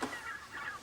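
Bresse turkeys on a farm call out while the farmer scatters blond wheat, cracked corn and buckwheat: a short run of close, harsh honking cries, one right after another, with no other sound.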